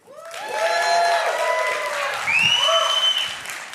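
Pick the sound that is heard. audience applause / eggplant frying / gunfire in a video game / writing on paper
audience applause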